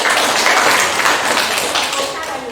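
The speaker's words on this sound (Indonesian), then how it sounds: "Oke, tepuk tangan dulu." A classroom of students claps in unison, a loud, dense and continuous patter of hands lasting a few seconds.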